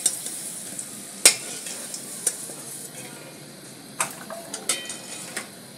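Pointed gourd (potol) fries in oil in a Bengali home kitchen, a soft continuous sizzle punctuated by sharp clinks and scrapes of a spatula stirring against the pan.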